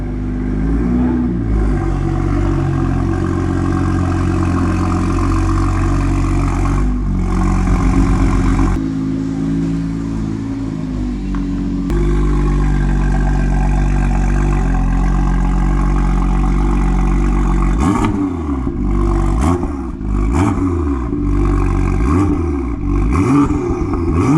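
A BMW M2's engine runs loud and continuous, with steady idling rumble and revving swells that rise and fall in repeated pulls toward the end, no speech.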